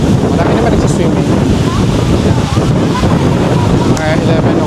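Strong wind on a Boracay beach with rough, choppy surf buffets the microphone in a loud, constant roar that continues without a break.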